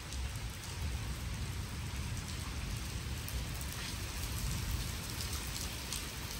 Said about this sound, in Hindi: बारिश लगना और तेज़ हो गया है